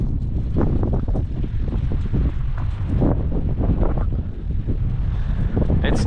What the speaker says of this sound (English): It's still pretty windy, but I think the winds have really calmed down.